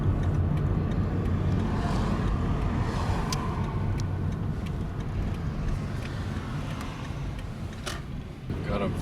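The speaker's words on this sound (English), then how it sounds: "Got a Vita Green truck behind us." A truck follows close behind a moving vehicle on a road near a wildfire burn zone ridge, giving a steady broadband road rumble and engine drone through the whole stretch, with some voice-like murmur under the noise.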